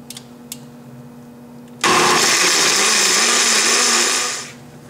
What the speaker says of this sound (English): all that's left is to turn the blender on and let it go